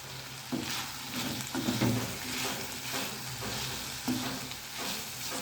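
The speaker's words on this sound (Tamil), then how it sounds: "கரம் மசாலா சேர்த்து மிக்ஸ் பண்ணி வச்சுக்கோங்க" Garam masala being stirred and mixed into rice in a pan for a children's variety-rice lunch, with a steady sizzle and repeated scraping stirs, heard close and alone.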